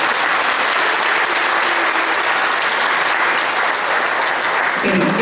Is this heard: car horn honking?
no